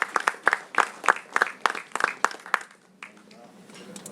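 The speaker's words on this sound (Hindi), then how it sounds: "एक बार जोरदार तालियों के बीच" Audience applause at a book launch event: a run of distinct, rhythmic claps at moderate distance, lasting about three seconds before fading into quieter room sound.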